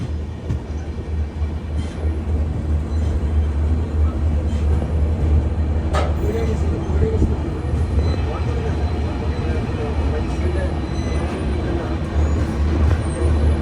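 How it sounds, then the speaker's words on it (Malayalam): The Jan Shatabdi Express, running late, pulls into platform one at Badarpur Junction in Assam with a continuous heavy rumble and rolling clatter, and a faint murmur of voices sits beneath the train noise. "ട്രെയിൻ ഇത് അസാമിലെ ബദർപൂർ ജംഗ്ഷൻ റെയിൽവേ സ്റ്റേഷനിലേക്ക് എത്തിക്കൊണ്ടിരിക്കുകയാണ്"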